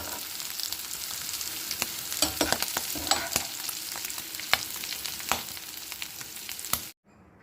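Mussels fry in masala powder in a pan with a continuous close sizzle, broken by sharp clicks and scrapes of stirring, before cutting off abruptly, with no voices.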